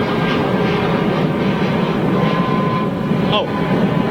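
An Airbus A321 departs London Heathrow Airport, its engines a loud, steady roar filling the whole stretch, with a short whistling tone near the end.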